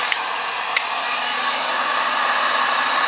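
A heat gun blows hot air over poured resin art, producing a steady, loud hiss of rushing air close by. The noise holds alone and unbroken, with a couple of faint clicks near the start.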